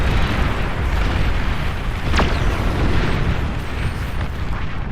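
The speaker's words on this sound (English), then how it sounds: "I meant to watch the bombing run." Explosions from a bombing run in the real-time strategy game Beyond All Reason, a dense, sustained rumble of overlapping booms with a sharp whistling streak cutting through midway.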